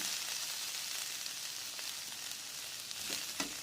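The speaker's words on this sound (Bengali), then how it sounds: "এইভাবে উল্টে পাল্টে ভাজবেন" Potato filling for bhaja puli pitha frying in a pan, a soft, steady sizzle that runs throughout, with a few light clicks from turning and stirring near the end.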